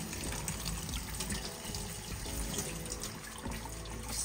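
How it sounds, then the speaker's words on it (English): Cold water pours steadily from a kitchen tap over freshly cooked ziti in a colander, a continuous close splashing rush with no speech. "I'm gonna shock them with a bit of cold water"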